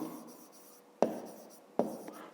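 Pen writing digits on paper for a fifth-grade maths exercise, faint scratching strokes with two sharp taps as the pen touches down, close and quiet, no speech.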